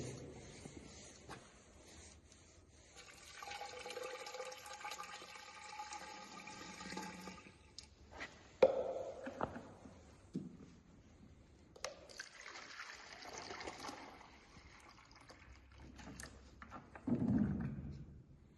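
Water is poured into the reaction chamber of a homemade hydrogen soldering torch, 4.5 litres in all, giving a steady close trickling and splashing that runs in bursts with short pauses and a few knocks between them.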